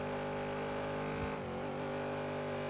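A car engine accelerating, a sustained tonal hum that dips and shifts pitch briefly before steadying, heard quietly from inside the car with no talk.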